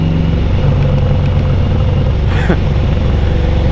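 A Harley-Davidson motorcycle with a 107 Milwaukee-Eight engine, Redshift 468 cam, Thundermax tuner and Khrome Werks full exhaust, heard riding with a loud, close, throbbing exhaust rumble and wind noise, steady across the short stretch.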